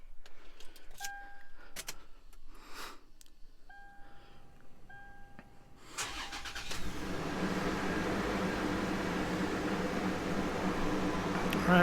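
A Toyota engine is started with a turn key: a few key jingles and dashboard chimes come first, then the engine cranks and catches about halfway through and settles into a steady, close idle.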